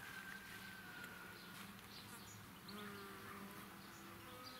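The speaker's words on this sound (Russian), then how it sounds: "Это работают пчелы" Bees buzzing in a garden, a faint continuous drone with a few individual insects passing closer and drifting away, set against quiet outdoor background.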